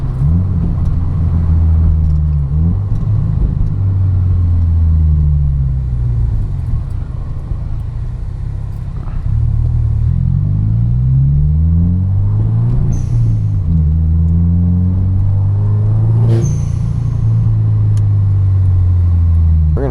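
A catless Subaru WRX engine rumbles loudly and close, revving up and settling back several times, with a few sharp crackling exhaust pops near the peaks.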